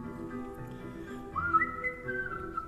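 A person whistles a sustained, wavering tune on stage at an event in Lewisburg, North Carolina, the melody rising and bending over soft low background murmur.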